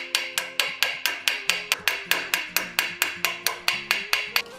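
A hammer strikes a rivet on steel gauntlet plates, mushrooming the head over a washer: about twenty sharp, evenly spaced metallic taps ring out close and alone in a steady rhythm.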